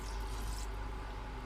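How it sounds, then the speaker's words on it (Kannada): About a glass of water is poured into a pan of mixed vegetable curry, giving a short, faint, steady splashing rush. "ಈಗ ನಾನು ಇದಕ್ಕೆ 1 ಗ್ಲಾಸ್ ಅಷ್ಟು ನೀರು ಹಾಕ್ಕೊಳ್ತಾ ಇದ್ದೀನಿ"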